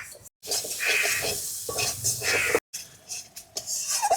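A spatula stirs turmeric, Kashmiri chilli powder and meat masala frying in a pan while cooking Sonali chicken, giving close, scraping and soft sizzling sounds in uneven strokes broken by brief silent gaps.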